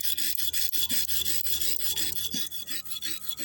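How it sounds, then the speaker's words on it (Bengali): Chillies are ground on a small toy grinding stone, a steady back-and-forth gritty rubbing in quick regular strokes, close and fairly loud, with no voices. "এই দেখ আমি কত লঙ্কা বেটে ফেলেছি দেখ।"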